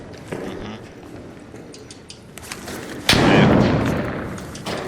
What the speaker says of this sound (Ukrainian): Він стріляв тільки що